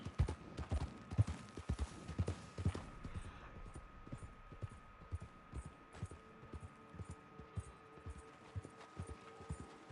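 In Red Dead Online, a horse's hooves clop along at a brisk, regular pace, soft and fairly quiet. The rhythm grows sparser over time, with a faint steady hum underneath.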